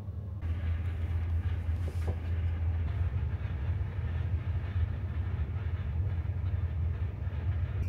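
A night train runs steadily on its rails with a continuous low rumble and faint rhythmic clatter, close and unbroken, with no voices.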